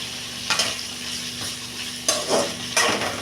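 Eggplant frying in plenty of oil in a pan for a Tamil stir-fry, a soft continuous sizzle broken by a few louder stirring scrapes and clinks, close and without talk.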